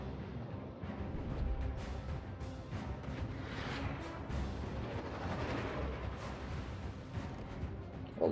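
British battleship main guns firing high-explosive shells in World of Warships, a steady heavy rumble of booming artillery with dense low-end roar and no speech over it.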